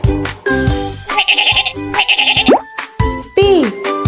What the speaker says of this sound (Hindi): बकरी कैसे बोलती है?